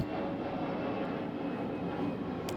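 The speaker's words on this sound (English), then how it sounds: "let me pray over this plane because I pray every time a plane passes" An airplane passes overhead, a steady broad engine roar that fills the whole clip at moderate distance without fading, with no talk over it.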